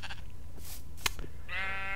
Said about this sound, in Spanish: Hay ovejas, cerdos, mapaches